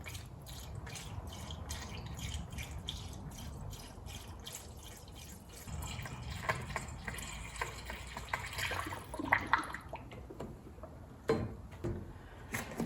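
Coolant poured into the radiator of a John Deere 2210 compact tractor, a steady close trickle and splash of liquid filling the tank, with dripping and gurgling picking up partway through.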